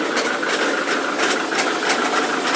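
A Ford Mondeo Mk3 turbo-diesel engine runs with a steady, fairly loud drone, and a regular knock taps through it several times in quick, even succession.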